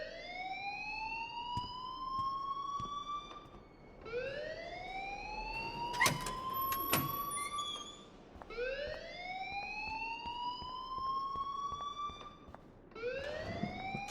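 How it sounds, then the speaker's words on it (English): A school fire alarm in the game Life Is Strange Remastered wails in repeated rising sweeps, each roughly four seconds long, loud and continuous with no talking over it. "please turn off that alarm since that's your job"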